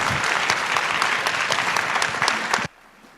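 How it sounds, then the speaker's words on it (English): At a high school spring concert, the audience gives loud, steady applause for the concerto competition winner and the orchestra. The clapping stops abruptly, leaving a quiet hall. "Another round of applause for our concerto competition winner and the orchestra."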